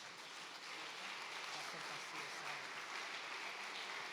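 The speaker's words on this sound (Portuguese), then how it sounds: "Vamos aplaudir ao Senhor, irmãos." A church congregation applauds during a Portuguese-language family worship service in Cubatão, a steady, dense wash of clapping that fills the room evenly from start to finish with no clear breaks.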